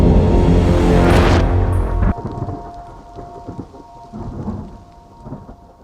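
Heavy monsoon rain falls on a terrace garden while a loud thunderclap rumbles at the start, then steady rain patters on surfaces with softer distant rumbles.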